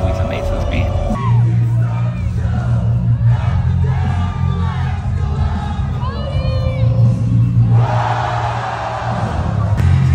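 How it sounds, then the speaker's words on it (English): A large arena crowd at a live WWE event in Knoxville, Tennessee, loudly chanting and singing along to Shinsuke Nakamura's entrance theme over booming music, with swelling cheers near the end. "The crowd singing Shinsuke's theme always amazes me."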